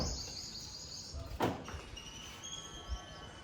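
A Hyundai Exter SX AMT door shuts with a single soft thud outdoors, faint against quiet background noise and distant bird chirps.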